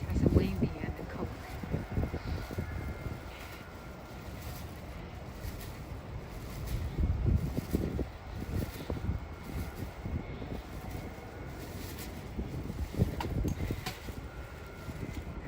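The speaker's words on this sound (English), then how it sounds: "just windy and cold." Cold wind blowing outdoors during a live broadcast, a steady broadband rush with gusty low rumble and buffeting on the microphone that swells and eases throughout.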